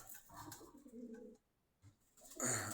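Pigeons at Meradia market in Khilgaon, Dhaka give soft, fairly faint coos in short bursts with a gap between, plus a brighter rustle or flutter near the end.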